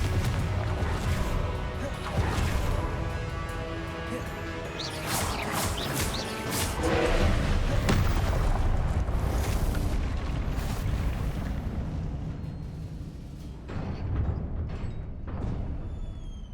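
Confringo fire spell blasts in the Hogwarts Legacy video game, a dense stretch of booming, crackling explosions over a low rumbling game score, loud and continuous with repeated bursts throughout.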